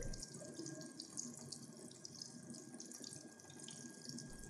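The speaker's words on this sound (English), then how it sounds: "When the water runs freely," Water running steadily from an open outlet while a Stuart Turner Flo Mate mains boost pump fills and vents, a constant close faucet gush with slight splashing and a faint tonal hum beneath, no talking.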